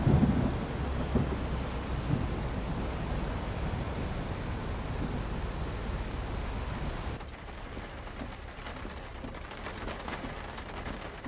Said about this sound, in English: I hear you, thunder. Boom, boom, bang.